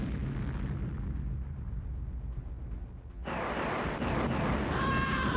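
Booming rocket launcher explosions from Command & Conquer, heavy low rumbles followed by a sharp, bright blast and crackling debris, loud and close over a continuous battle backdrop.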